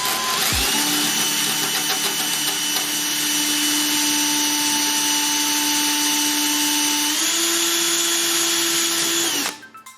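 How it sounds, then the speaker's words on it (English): A power drill bores into an aluminum rivet head on a Sonex aircraft kit, a loud steady whine that steps up in pitch partway through before cutting off abruptly near the end. "But clamp down hard and drill right in the middle."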